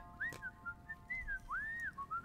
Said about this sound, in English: Get a nice whistle as well.